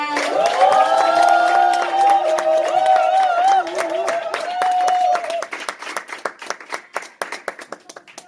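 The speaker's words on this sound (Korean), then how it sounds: "박수로 박지영 사장님 모시겠습니다." An audience at a stage event in Korea greets a presenter with loud whoops and sustained cheering over brisk clapping, then the voices fade and the clapping carries on alone, tapering into scattered claps.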